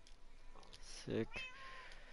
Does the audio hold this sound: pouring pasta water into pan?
no